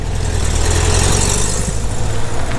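A Porsche 911 Carrera sits idling at the start of a road-trip rally, its engine giving a steady, loud, close rumble with no pauses.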